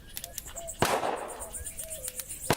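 A single sharp gunshot-like blast in a video game, with a noisy burst of rumble, followed by faint scattered pops and tones of game-style effects.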